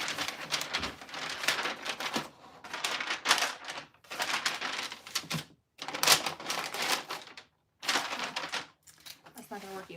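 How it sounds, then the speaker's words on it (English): Wrapping paper being cut diagonally with scissors while holiday gifts are wrapped; close, crisp crinkling and slicing bursts come in several runs separated by short pauses. "I'll cut it diagonally."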